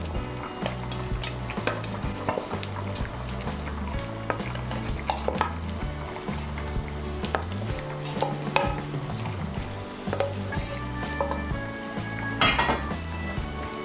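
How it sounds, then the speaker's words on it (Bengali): Katla fish and a cauliflower and potato curry in a pan give off a steady close sizzle and bubbling simmer, with a spoon stirring and occasional clinks against the cookware, and no one speaking. "এখন আমি এর মধ্যে দিয়ে দেব ভেজে রাখা মাছগুলো।"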